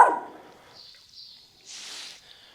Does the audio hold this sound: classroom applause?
no